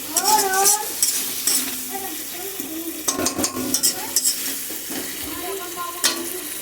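Spice masala being stirred and fried in a pan: scraping spoon strokes and clinks over a continuous sizzle, with irregular bursts of stirring and a tonal metallic ring near the start.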